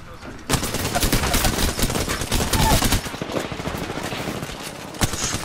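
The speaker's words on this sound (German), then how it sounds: "Ich werde beschossen." Rapid automatic gunfire from the shooter game Apex Legends rattles in a fast continuous burst for several seconds, loud and close, with a final isolated shot near the end.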